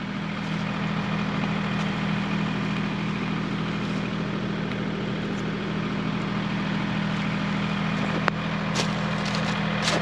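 A heavy tractor engine drones steadily at a low, constant idle, with a faint rattle and a brief click near the end.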